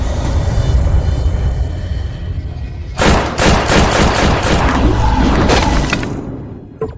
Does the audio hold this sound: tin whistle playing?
no